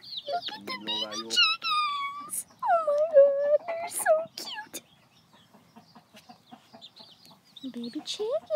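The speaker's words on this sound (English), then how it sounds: "Look at the baby chickens." High, thin chirping calls from baby chickens, several overlapping peeps in bursts, fairly close, with a stretch of quieter scattered cheeps.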